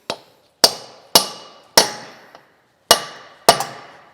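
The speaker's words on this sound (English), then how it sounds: "So you can use punch like this and hammer." Six sharp metal-on-metal hammer blows on a punch, driving the axle into a 1994 Honda Civic. The strikes are loud, close and unevenly spaced, each ringing off briefly before the next.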